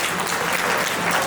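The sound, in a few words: applause at a family party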